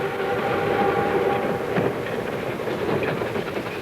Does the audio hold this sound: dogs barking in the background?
no